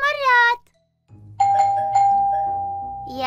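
A doorbell in a children's cartoon chimes with sustained, ringing bell tones just after a short burst of a voice, loud and close with a soft musical backing.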